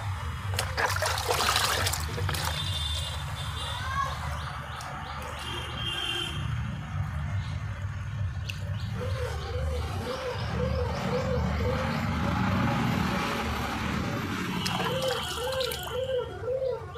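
Water is poured little by little at the base of a potted black Furush plant cutting, making a close, gurgling trickle that runs throughout. A voice speaks intermittently over the pouring.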